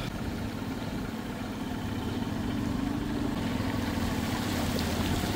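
Motorbike engine running steadily while riding along a waterlogged road near a camp after heavy rain, a continuous close mid-pitched drone with faint water and tyre noise and no pauses.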